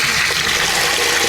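Strong, cold water gushing from a tap fed by a deep well, a loud, close, continuous rushing flow under high pressure with no voices.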